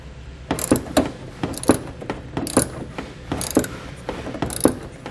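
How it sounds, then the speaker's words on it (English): A ratchet with a 10mm socket works a bolt loose on a 2019 Ram 1500, giving close, loud bursts of rapid clicking in a steady back-and-forth rhythm, about nine strokes in a row. "we're going to remove that using a 10mm socket"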